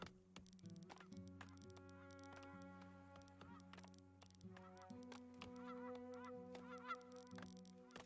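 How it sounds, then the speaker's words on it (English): Geese honking in the survival colony-building game Farthest Frontier, repeated nasal honks over a sustained musical drone, fairly faint and continuous. "Ooh, geese, you can hear them going."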